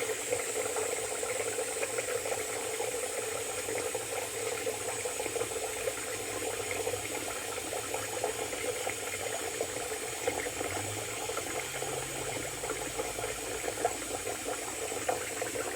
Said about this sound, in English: we'll fill this back up with water and we'll keep going.